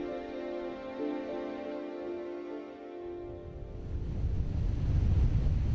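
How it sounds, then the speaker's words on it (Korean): Strong waves and wind at a Jeju island harbor after a typhoon. A sustained tonal hum gives way to rising rumbling gusts and surf that grow louder and closer. "태풍이 한바탕 섬을 휘갈키고 간 후에도 세찬 파도와 바람이 섬을 맴돕니다."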